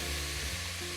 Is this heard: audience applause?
no